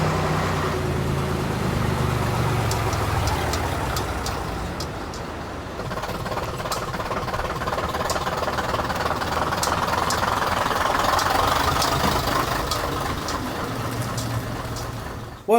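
An AEC Routemaster London bus engine drones steadily from inside the bus on a road trip, a loud diesel rumble with knocking texture, rattles and clicks throughout and no talking.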